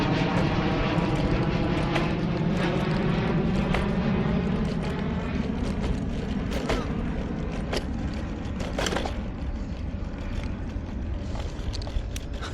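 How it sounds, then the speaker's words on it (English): A loud, continuous roar of a jet airplane taking off near the beach between Marina del Rey and El Segundo, broad and rumbling, gradually easing slightly toward the end. "every 3 minutes you hear a jet taking off"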